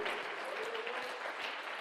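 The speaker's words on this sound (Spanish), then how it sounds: "dele un aplauso al Señor y déselo fuerte" Congregation in a church gives the Lord a loud, sustained round of applause, dense clapping from many hands filling the room steadily without a break.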